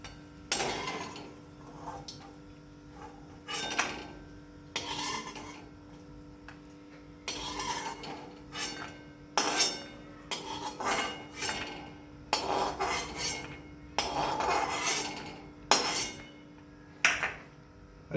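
A metal spoon scraping and clinking against a pan while lifting out fried banana pieces for banana halwa, irregular bursts of close scrapes and taps separated by short pauses.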